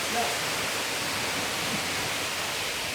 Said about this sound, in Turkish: Dere iki yönüne akıyor bak.